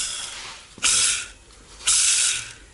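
A worn, dry clutch release bearing from a car on a workshop repair rasps in two harsh, hissing grinding bursts as it is spun by hand, with no talking.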